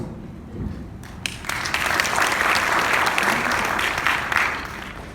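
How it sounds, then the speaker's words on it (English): An audience at a Korea–Thailand logistics seminar breaks into applause that swells quickly and holds steady, a dense patter of many hands clapping. "Please join me in giving her a round of applause."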